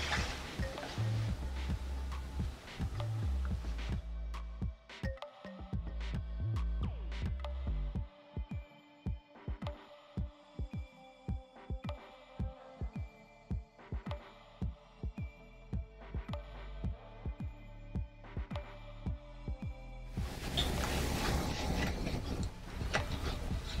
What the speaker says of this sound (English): I'm ready to take it to a sewing machine and sew